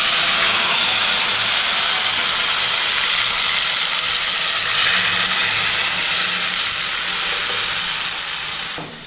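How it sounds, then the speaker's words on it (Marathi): Chicken gravy mixture poured into hot oil sizzles loudly and steadily, a broad hissing fry that fades slightly at the end. "आता आपण तेलात हे ओतणार आहे ना आणि सर्व उडणार"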